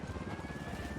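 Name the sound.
helicopter from the video game Ghost Recon Wildlands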